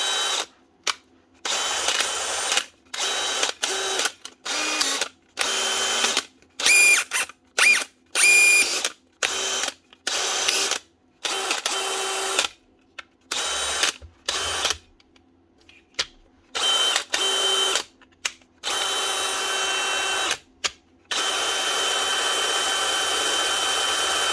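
A repaired DeWalt DCD996 cordless drill, checked for a fan that may still rub, whirs up in many short on-off bursts with whining motor tones, then runs steadily for longer near the end. Close and loud.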